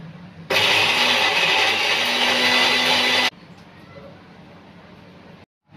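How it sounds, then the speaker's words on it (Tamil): Mixer grinder whirring loudly as it grinds masala with coconut pieces into a paste for crab curry, a steady roaring run of about three seconds that cuts off abruptly, leaving quieter room noise. "இப்போ நல்லா பேஸ்ட் மாதிரி அரைச்சி எடுத்துக்கலாம்."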